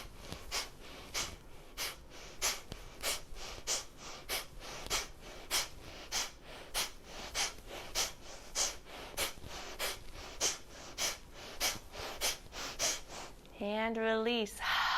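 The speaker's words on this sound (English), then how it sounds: "find that crazy Kapalabhati breath we did in the beginning as we sway" Kapalabhati yoga breathing, a steady run of sharp, forceful nasal exhales at roughly one per second for the whole stretch, close and clear, with a brief different breathy sound near the end.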